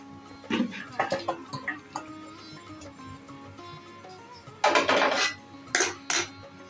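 Chicken do pyaza sprinkled with coriander leaves is stirred in a pan, with a spoon knocking and scraping the metal in scattered taps, then a louder burst of clattering, and faint speech in the background.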